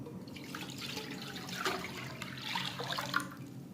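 Milk, about 1.5 litres, pours into a kadhai wok on a lit stove, a continuous close liquid splashing and gurgling stream with small bright spatters, no voices over it.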